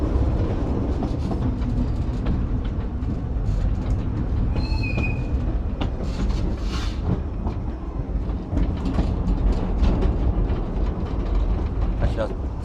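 Narrow gauge railway locomotive working hard up a hill, a continuous loud rumble and clatter of the train with brief wheel squeals, heard nearby.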